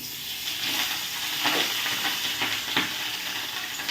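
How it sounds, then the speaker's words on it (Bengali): Fish sizzles steadily in hot oil in a pan, with a continuous close frying hiss and a few sharper crackles and spatters. "ব্যাস এবার এটা একটুখানি উল্টে পুল্টে নিয়ে ভেজে দিলেই মাছ ভাজাটা হয়ে যাবে।"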